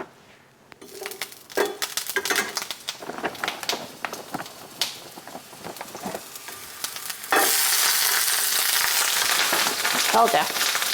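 Food frying in a hot pan, with stirring scrapes and irregular pops that swell into a loud continuous sizzle and splatter.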